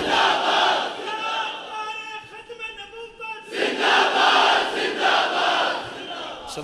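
A crowd at a religious gathering chants a religious slogan in loud, massed bursts. A strong roar at the start fades into a quieter stretch, then a second full surge of voices follows.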